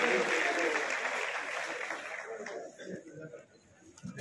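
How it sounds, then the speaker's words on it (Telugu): An audience claps together at an official celebration of Dr. B. R. Ambedkar's 131st birth anniversary in Hanumakonda; the applause is steady and fairly soft at first, then fades away into quiet background noise. "గట్టిగా ఒకసారి అందరూ క్లాప్స్ పెట్టండి"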